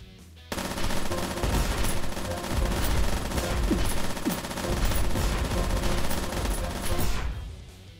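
Gatling guns fire in the mech game Metal Ascension, a loud, rapid, continuous rattle of automatic fire that starts abruptly and keeps going for several seconds before cutting off.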